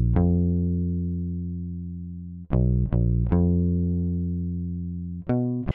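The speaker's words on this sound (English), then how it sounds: "I got the Scarby Rickenbacker from Contact, which I use all the time, and just did this bass line." Scarbee Rickenbacker sampled bass from Kontakt playing a simple bass line: a long sustained low note, then a few short plucked notes and another long held tone, clean and solo without drums or voice.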